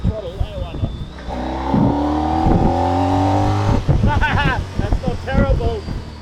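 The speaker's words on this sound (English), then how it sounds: "But if you want to change down and open the throttle, why not?" A Honda ST1300 Pan European motorcycle engine rises in pitch as it accelerates after a downshift, rushing wind over the microphone, while someone talks over and between the revs.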